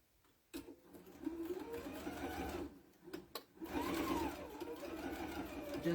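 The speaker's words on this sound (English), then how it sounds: "So I'm just sewing just around it to hold it together." Sewing machine stitching around an Easter crayon holder, a steady close mechanical whir that runs in bursts with two brief pauses, with no talk over it.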